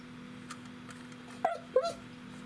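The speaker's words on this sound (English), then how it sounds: "Dog goes crazy every time my sister leaves." A dog whimpering indoors, two short high whiny yelps close together near the end over a faint steady hum from a laptop.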